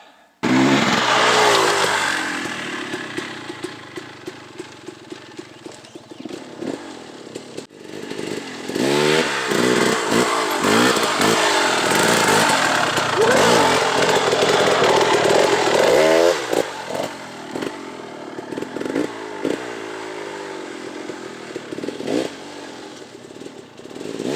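An enduro dirt bike engine revs and drones loudly and continuously while being ridden, with rising and falling pitch sweeps as the throttle opens and closes, a brief dip in loudness midway, and no talk.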